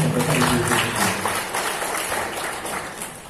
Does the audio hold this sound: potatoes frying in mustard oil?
no